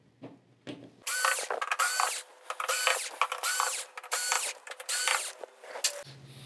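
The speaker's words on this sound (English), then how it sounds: "let's get all of the screws out and then we'll move on to the second step" A power screwdriver backing screws out of the rear panel of a Sony XBR-65A8F TV, whirring and ratcheting in loud bursts broken by short pauses, with faint clicks before and after.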